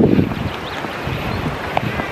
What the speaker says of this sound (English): but the wind's still cold.